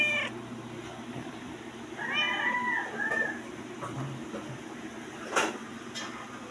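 A pet cat meows in greeting as its owner arrives, giving a couple of clear rising-and-falling meows close by over a steady background hum, with a sharp knock near the end.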